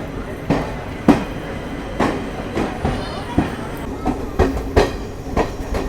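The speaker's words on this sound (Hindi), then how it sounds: "चलिए आप सभी को डिपार्चर दिखा लेते हैं मोकामा रेलवे स्टेशन।" The Puri-Patna Express 18405 pulls out of Mokama railway station. Its wheels give a steady clickety-clack with sharp rhythmic joint clunks that repeat about every half second, loud and close from on board.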